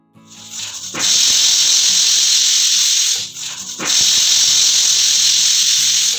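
Loud, steady hiss of a gas stove burner in two long bursts separated by a brief dip, close and continuous.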